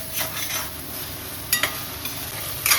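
Mushroom pepper fry sizzles softly in a pan while being stirred, with a steady light crackle and a few sharp scraping clinks of the spoon against the pan.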